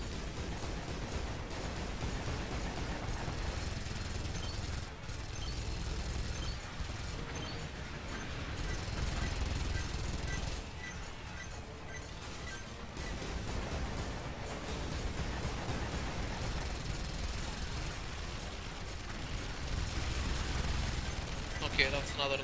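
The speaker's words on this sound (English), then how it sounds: "firing all missiles" Missile salvos from Earth Defense Force 4.1 fill a dense, continuous roar of launches, blasts and rumbling game noise, loud and steady throughout with no pauses.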